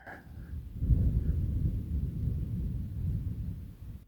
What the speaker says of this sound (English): Over there's thunder.